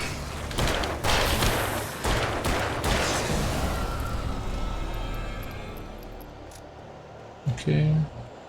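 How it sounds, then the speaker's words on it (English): Rifle shots in Alan Wake Remastered, several heavy booming blasts in close succession that decay into a long rumbling tail, with a couple of later thumps near the end. "Oh, that's a rifle, not a shotgun."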